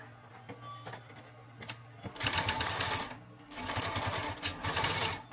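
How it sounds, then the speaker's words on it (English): Sewing machine stitching the side panel onto the back of a handmade backpack, running in two sustained bursts of rapid mechanical chatter separated by a brief pause, close and loud. "so now we're going to stitch the side onto the back here"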